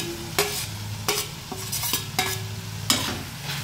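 Okra stirred into frying spices in a pan, with a series of sharp spatula scrapes and clatters at irregular intervals over a soft, continuous sizzle.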